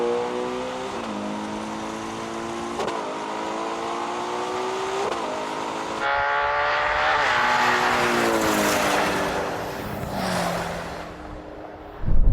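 An SUV in a drag race revs hard up to its rev limiter, the engine whining higher through gear changes, loud and close and bouncing off the limiter near the end.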